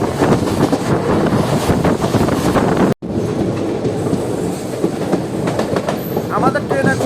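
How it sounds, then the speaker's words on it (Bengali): Kaviguru Express train running at 110 speed, a loud continuous rumble with rhythmic clickety-clack of wheels on rail joints and wind buffeting the microphone, broken by a momentary cut near three seconds. "আমাদের ট্রেন 110 স্পিডে প্রান্তিক রেলওয়ে স্টেশন ক্রসিং করেছে"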